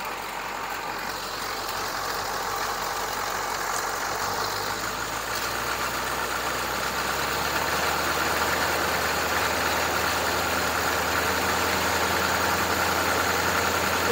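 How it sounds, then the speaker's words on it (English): A 6.2/6.5 diesel engine running during injection pump timing work, a steady, close, rough engine drone that holds throughout with no pause. "If I rev it up,"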